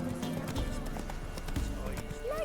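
Hooves of the horse Roach clip-clop at a gallop in The Witcher 3 while exploring Velen, a steady rhythmic patter mixed under game music and a talking voice.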